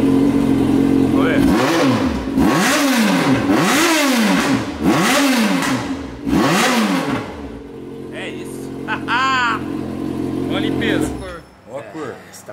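A Yamaha XJ6 motorcycle engine revs up and drops back in about five rhythmic, loud bursts close by, then settles to a rougher idle while people talk nearby.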